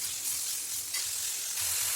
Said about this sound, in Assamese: আলুটো অলপ ভাজি ল'ম